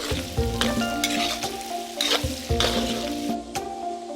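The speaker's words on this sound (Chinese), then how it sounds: "随后下姜蒜翻炒片刻" Ginger and garlic stir-fried with seared pork ribs in a hot wok, a loud continuous sizzle punctuated by repeated scraping and clattering strokes of the spatula.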